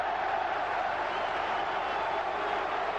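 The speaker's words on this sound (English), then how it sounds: "And Norris turns to the crowd and urges them to cheer more and louder" Chesterfield football supporters in a stadium crowd roar steadily during a match, a continuous dense wash of cheering and voices with no breaks.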